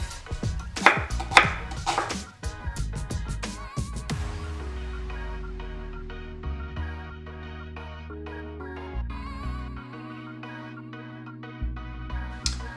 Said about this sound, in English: I'm going to slice up my 2 small onions.